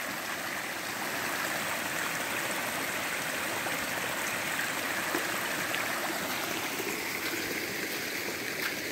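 A stream swollen by heavy overnight rain rushes steadily, a dense, continuous roar of fast water heard close up without any talking.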